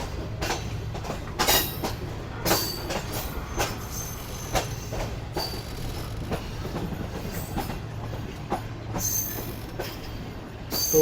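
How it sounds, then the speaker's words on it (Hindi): The Pak Business Express rumbles through points while switching tracks onto the main line. Irregular clickety-clack beats, wheel squeals and a continuous rolling drone carry on close and loud throughout. "तो ये ट्रैक चेंज करके ट्रेन अब मेन लाइन पर आ रही है"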